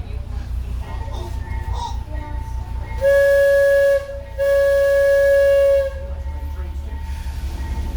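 An excursion train on the North Arkansas Railway at Eureka Springs rumbles along with a low steady roll, and its horn sounds in two long blasts midway, with voices heard in the carriage.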